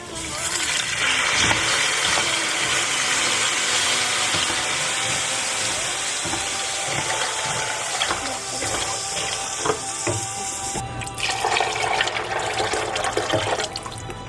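Water is poured into a pot over browned pasta shells while making concha soup, a loud continuous rushing splash and sizzle that runs steadily, shifting in tone near the end.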